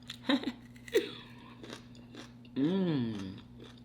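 A fresh green homegrown cucumber is bitten with two sharp crunches, followed by a brief murmur and a voiced sound, all close to the microphone.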